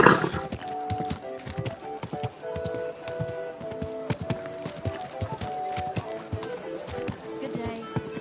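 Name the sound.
horse hooves clip-clopping in the video game Kingdom Come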